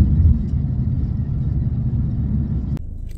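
A car sits in Hamburg city traffic, its engine a steady, loud, low rumble close by that drops abruptly near the end, with no talk.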